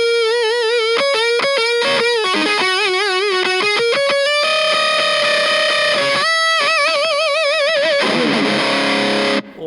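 Electric guitar played through a Kokko KH8 high-gain distortion pedal, loud, thick and saturated, with quick picked riffs and vibrato-bent notes followed by long sustained, wavering held notes, alone with no voices.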